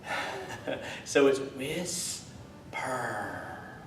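Ujjayi whispering breath in yoga, slow audible breaths drawn in and pushed out through a narrowed throat with a soft hissing rasp, a few breaths in sequence, close and moderately loud.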